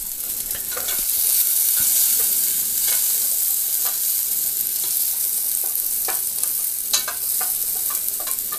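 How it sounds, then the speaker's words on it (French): Quail stirred and turned in hot olive oil and their own juices, a steady broadband sizzle running throughout with scattered spoon scrapes and pops, close and even in level. "c'est vraiment les tourner dans l'huile d'olive et le jus de caille"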